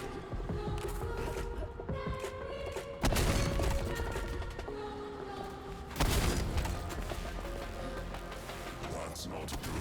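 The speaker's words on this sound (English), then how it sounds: "Grenades." Heavy booms from grenade explosions in the video game SPRAWL, two strong blasts standing out above a dense, loud wash of continuous combat noise.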